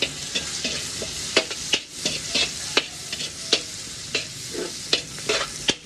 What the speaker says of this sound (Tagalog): maganda ng pagkakagisa ng bawang at sibuyas